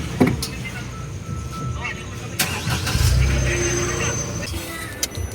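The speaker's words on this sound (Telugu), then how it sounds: "ఇది కీ రిమూవ్ చేయకపోతే ఇంజిన్ ఆటోమేటిక్గా ఆన్ అయిపోతుంది" A latest-model Maruti Wagon R's engine starts up on its own at a fuel pump, a low rumble swelling midway under ongoing talk, with small clicks around it.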